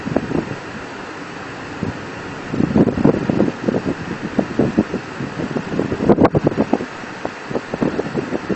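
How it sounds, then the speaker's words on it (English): Brisk wind blowing outdoors in open country where wild mustangs and antelope roam, loud buffeting gusts striking a handheld microphone in irregular bursts. "the wind is blowing briskly."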